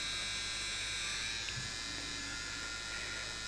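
A small Beardo Beast electric beard trimmer motor hums and whines continuously at a steady pitch, close by, with no pauses.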